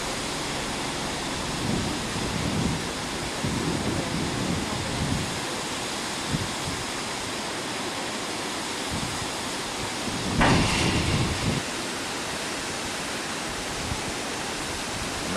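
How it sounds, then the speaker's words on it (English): Water rushing into a canal lock in Ireland as it fills to raise a boat: a broad, steady roar of flowing water, constant and moderately loud, with a brief louder surge partway through and faint background voices. "I imagine it takes quite a while for the water to come in and fill this up."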